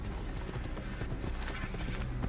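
A horse in Assassin's Creed clip-clopping along at a steady gallop, repeated hoofbeats over a dense background of game sound, with no talking.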